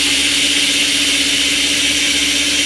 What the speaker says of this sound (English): you're going to want to choose either chop or grind